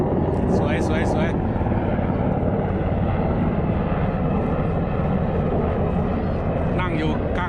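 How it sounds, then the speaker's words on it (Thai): Black Hawk helicopter landing at a US Air Force base air show, a steady loud rotor and engine roar running throughout, with people talking nearby over it. "แบล็คฮอคลงท่าลงนี่ท่าลง"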